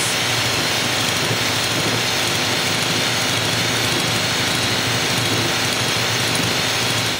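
An electric hand mixer runs on medium speed, beating egg yolks while cooking syrup is added: a steady, dense whirring drone held loud and close the whole way through, with no pauses.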